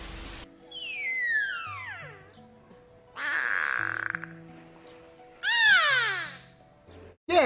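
A beluga whale gives three separate high, squeaky calls with sweeping, falling whistles, each a second or two long and separated by short pauses.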